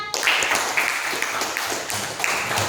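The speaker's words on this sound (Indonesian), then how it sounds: "Tepuk tangan untuk Nairlan" Classroom applause for a student named Nairlan, a scattered patter of clapping hands from a group of classmates that runs steadily through the whole stretch at moderate loudness without any voices.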